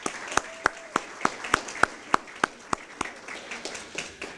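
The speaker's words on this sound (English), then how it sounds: "Let's give them a round of applause." Sparse, distinct handclaps at a graduation celebration, a slow, evenly spaced beat of single sharp claps, fairly near and faint overall, fading toward the end.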